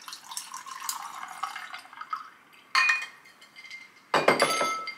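A gin cocktail is poured over ice cubes in a glass, giving a trickling, splashing pour with clinks of ice, then two louder sharp pours with bright glassy clinks, close up and without talk.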